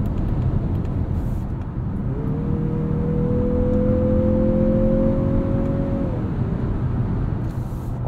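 2023 Mazda CX-50 with a 2.5-litre turbo engine accelerating on a highway: a rising engine tone climbs over constant loud road and wind rumble, holds for several seconds, then eases off.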